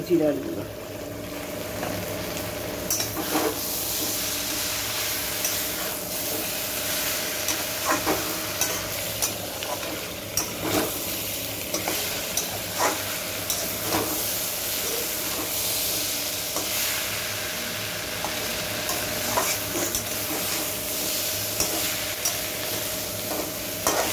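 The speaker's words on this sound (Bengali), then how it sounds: "আমার সবজিগুলো সব কষানো হয়ে গিয়েছে, ভাজা হয়ে গেছে দেখুন।" Vegetables for a dudh sukto fry in a pan with a continuous sizzle, while a spatula stirs and scrapes with frequent sharp clicks throughout.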